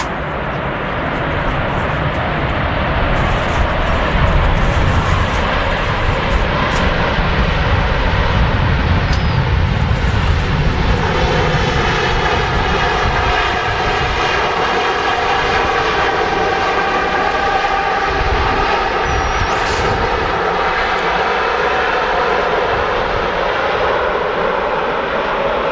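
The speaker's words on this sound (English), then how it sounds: "The biggest passenger aircraft in the world touching down at Manchester. Epic views there of the A380 rolling out." An Airbus A380 lands and rolls out at Manchester Airport, a loud, sustained jet engine roar that swells and slowly shifts in pitch as the aircraft decelerates down the runway.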